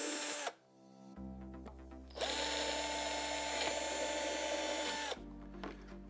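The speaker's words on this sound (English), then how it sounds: "I'm going to drill a couple of pilot holes" A power drill whirs loudly, spinning up in short bursts before a long sustained run drilling pilot holes into a UPVC window frame, then winding down.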